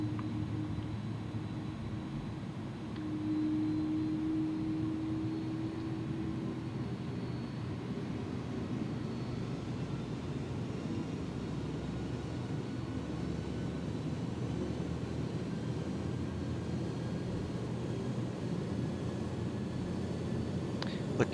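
Airbus A300 jet engines spooling up for takeoff in X-Plane 11, a steady broadband roar with a rising tonal whine that settles into an even, sustained drone throughout.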